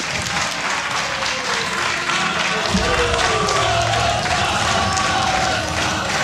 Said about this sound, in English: Crowd seems behind StarDust so far